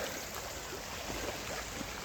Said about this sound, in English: crossing across a brook